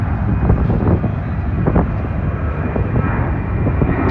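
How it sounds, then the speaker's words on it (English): A fixed-wing aeroplane drones overhead above a motorsport paddock at a British GT support event, a steady broad engine roar mixed with gusty wind buffeting on the microphone, no talk. "There's an aeroplane."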